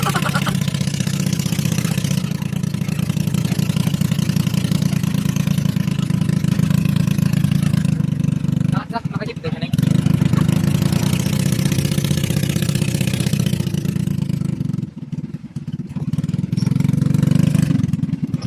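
Rattly, tin-can idle of a family vehicle's engine, loud and close, droning steadily with a fast metallic pulse; two short dips where the rumble drops out briefly before resuming.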